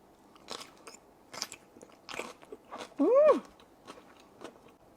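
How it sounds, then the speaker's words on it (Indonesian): Crisp crunch from biting into wilted-looking Japanese-style pickles flavored with dashi and soy sauce, a single loud bite near the three-second mark after several softer chewing crackles, close up with no talk. "Tapi digigit tuh masih kriuk banget."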